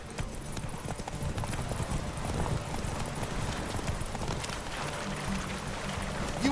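Horse hooves galloping in The Witcher 3 video game, a continuous rapid clip-clop rhythm at moderate volume over a steady background wash, with no talking.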